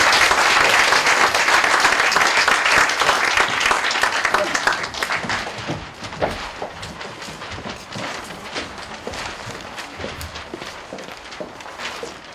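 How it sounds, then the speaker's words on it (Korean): A church congregation applauds a teacher for drawings made for the service. The crowd's dense clapping starts loud and gradually thins and fades into scattered claps and room noise. "선생님 수고하셨습니다. 박수 한번 해주십니다."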